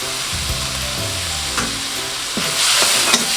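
Bulgogi meat stirred and sautéed in a hot oiled pan, with steady sizzling and scraping utensil strokes, the frying growing louder toward the end; no voices.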